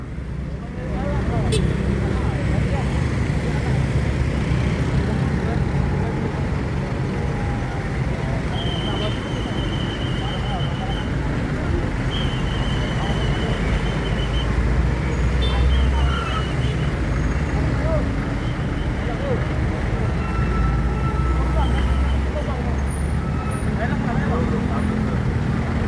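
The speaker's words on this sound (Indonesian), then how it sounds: "Ada bus Al-Ijra tronton." Heavy holiday traffic at the entrance to Palembang, including a bus and a tronton truck, gives a continuous low rumble of engines and road noise. Voices are heard talking over it throughout.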